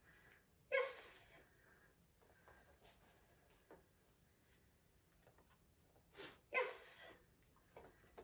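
Two sharp, short sneezes from a dog, a few seconds apart, with quiet room tone and a brief word spoken in between.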